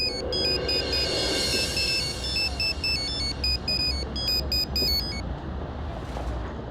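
An electronic phone ringtone plays a bright, stepped melodic pattern for about five seconds over a low steady hum, then stops, as a call is placed in a Telugu TV serial scene.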